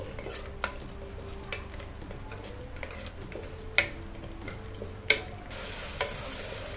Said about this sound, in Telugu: మొత్తం స్పైసెస్ టమాటో అంతా కూడా ఆయిల్లో బాగా ఫ్రై అయిపోవాలండి